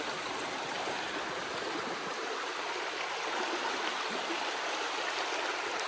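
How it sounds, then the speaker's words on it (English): A river rushes through the woods in a steady, full wash of flowing water, continuous and close, with no voices over it. "That is a river. That's nothing to play with."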